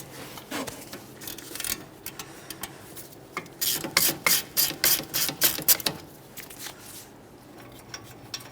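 Ratchet loosening a 17mm caliper bracket bolt on a Toyota Sienna during a front brake job, close rapid clicking bursts in a quick rhythmic series, mostly alone with little else around.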